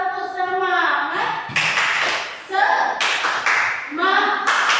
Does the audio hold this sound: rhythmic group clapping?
yes